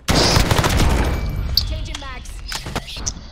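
A gun in Call of Duty fires short three-round bursts; a dense rattle of shots opens loudly, then gives way to sharper scattered cracks and metallic clinks as game sounds continue.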